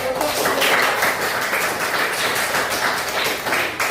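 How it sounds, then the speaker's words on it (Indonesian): Classroom applause, a group of people clapping hands steadily and loudly for several seconds, dense and close. "Ya, tepuk tangan."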